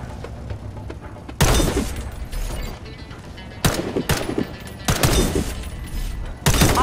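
Warface gunfire aimed at a target in a tutorial level: several loud, sharp bursts of shots at irregular intervals, each ringing out over a low game ambience.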